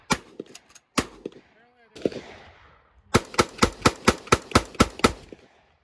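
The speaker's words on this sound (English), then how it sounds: "Somebody's shooting out over there too." Gunshots at an outdoor shooting range, several sharp cracks followed by a rapid string of about ten evenly spaced shots, loud and close, with brief talk in between.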